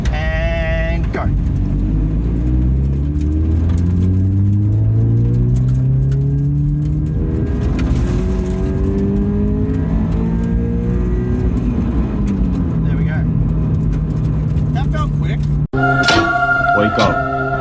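A car pulls away from a rolling start in second gear on a straight, engine loud and close as revs climb steadily through the gear before easing off, with a brief sharp knock and a shift near the end.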